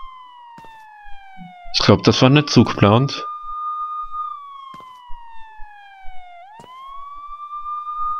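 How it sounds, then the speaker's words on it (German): A police car siren in the video game Sneak Thief wails steadily with slow rising and falling sweeps across the whole stretch, loud and continuous, with a voice talking over it for about a second near the start. "Ist da jetzt ein Polizeiauto?"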